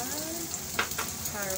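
Garlic sizzles in a hot pan as it is shaken, with a steady frying hiss broken by a couple of brief louder scraping bursts.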